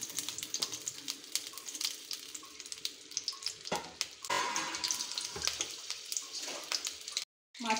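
Stuffed green chilli frying in hot oil in a pan gives a steady, close sizzle with small crackles and pops throughout, then cuts out briefly before resuming.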